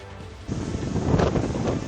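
Rough sea surf pounding the Pangasinan coast during Typhoon Kristine, a dense roaring wash of breaking waves with heavy wind buffeting the microphone, swelling louder after a brief quieter start.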